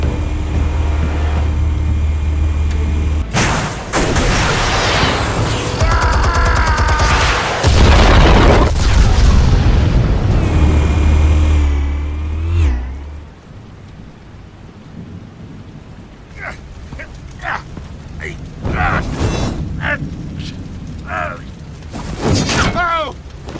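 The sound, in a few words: explosives detonating in video game Batman Telltale Series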